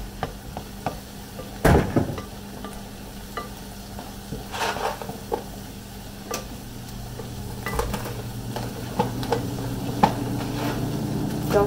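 Mushrooms tossed into a hot pan sizzle steadily while a spoon stirs them, with sharp scrapes and knocks against the pan and a continuous frying hiss underneath.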